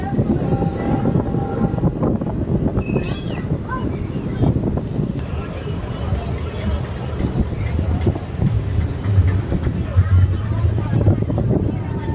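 A passenger train on the Madurai–Bodinayakkanur line rumbles steadily along the tracks, with rhythmic clattering and wind rushing past, heard from inside the moving carriage.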